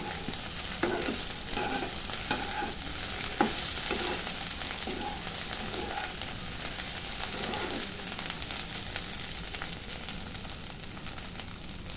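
Mushrooms being stirred and fried with coriander-cumin powder in a pan, a steady soft sizzle with repeated scraping strokes of the spoon, fairly quiet and close, no talk.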